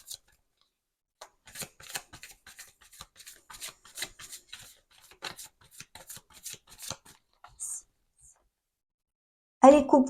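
A tarot deck is shuffled by hand in quick, crisp riffles and taps, a steady run of light card clicks, then a sharper, louder flurry of cards at the very end.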